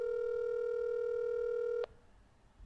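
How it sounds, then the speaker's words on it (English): A single long ringback tone plays over a speakerphone for a call going unanswered, a steady electronic hum that cuts off abruptly, leaving quiet line noise. "This is the sound of Matt ignoring my phone call"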